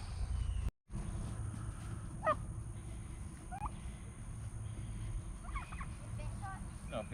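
Turkeys on a farm are herded along while several gobbles and calls break out over a steady low background rumble, fairly distant and intermittent.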